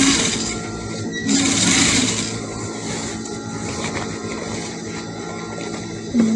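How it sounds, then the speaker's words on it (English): Sewing machine stitching the neck of an open jacket made from African fabric, a close, steady mechanical whir with short louder bursts, no voices. "I'm sewing the neck presently"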